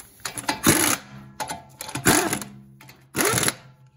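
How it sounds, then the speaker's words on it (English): Lug nuts on a Buick Regal rear wheel are run down with a power tool in a crossing pattern, giving three loud bursts of rapid mechanical rattling, each about half a second, close up with short pauses between. "Start all the lug nuts by hand. Then we're going to tighten in a crossing pattern."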